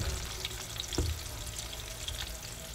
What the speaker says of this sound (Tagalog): So, kailangan lang natin siyang i-sear sa oil.